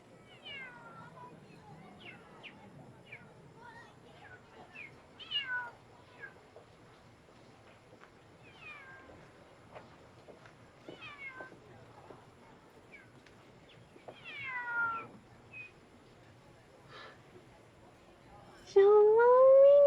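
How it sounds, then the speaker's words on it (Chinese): A kitten meows repeatedly, with short rising and falling cries spaced irregularly throughout, fairly close and clear over a quiet background, ending in a longer, louder drawn-out meow. "小猫咪，你怎么在这里？"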